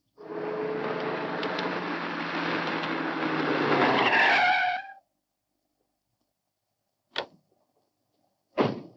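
Car tires skid and squeal loudly for several seconds in a 1940 film scene, then cut off abruptly, followed by two short sharp bangs like doors slamming, with no talking.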